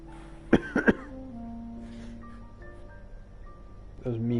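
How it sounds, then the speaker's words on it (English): A person coughs in three sharp bursts close to the microphone, over the quiet music and tones of a police-dispatch management game, followed by faint electronic beeps. "That was me coughing, by the way."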